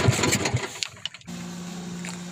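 A bangka boat engine on a sea crossing from Mariveles, Bataan to Naic, Cavite sputters through a few uneven bursts, then catches and settles into a steady, close running hum.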